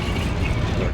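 Canadian tanks rumble in the World War game Valiant Hearts: a dense, loud, steady low engine roar with grinding mechanical texture, continuous and close throughout the moment.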